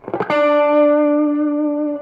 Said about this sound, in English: raking your pick across muted strings that you don't want to ring out